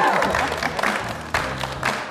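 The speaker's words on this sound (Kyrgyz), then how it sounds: "бизге кол чаап коюңуздар дейли" An audience applauding a director and chief editor on a Kyrgyz TV dating show set, a continuous dense patter of clapping with scattered cheers, loud and close throughout.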